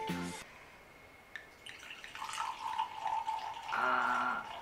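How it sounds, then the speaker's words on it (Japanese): Wine pours into a glass in a kitchen, a thin trickling liquid stream that rises in pitch as the glass fills, close by and fairly quiet, with no talking. "ワインを注いでいきます。"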